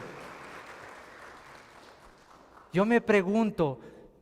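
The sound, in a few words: church congregation applause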